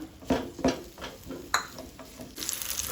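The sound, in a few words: dates frying in ghee in a pan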